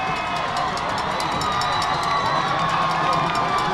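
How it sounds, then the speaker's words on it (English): A high school football crowd at Ludlowe vs Norwalk cheers and shouts steadily throughout, a dense roar of many voices with children's yells, loud and continuous. "This crowd is getting into it."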